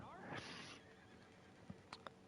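A horse whinnies in the Red Dead Redemption 2 Online game, a short faint neigh followed by a few light hoof clops against a quiet ambient background.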